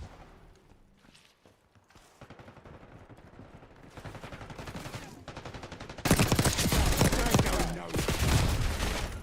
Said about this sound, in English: This gun with rapid fire chat is nuts.